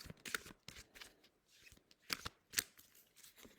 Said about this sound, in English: So I will be pulling a colour card for you.